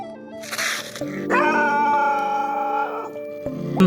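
A teased dog on a road howls in drawn-out, wavering tonal cries that fill most of the stretch, fairly loud and close, with a short noisy burst early on.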